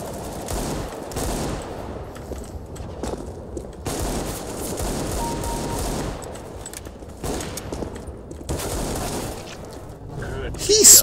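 Rapid gunfire in the CS:GO team deathmatch mode crackles in repeated bursts across the whole stretch, fairly close and loud, with someone talking excitedly over it.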